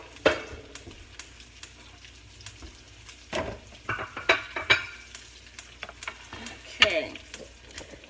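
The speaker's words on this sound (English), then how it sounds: "See, it's frying." Thin halved chicken cutlets sizzle in a frying pan, a continuous hiss broken by clattering stirs and scrapes of a utensil, with nobody talking.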